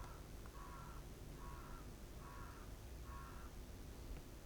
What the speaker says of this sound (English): I like the sound of crows crowing.